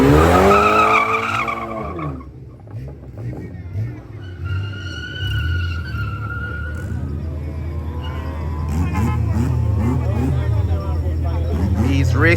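A BMW race car on a track at night, its engine note rising and falling with tyre squeal under loud commentary and crowd murmur.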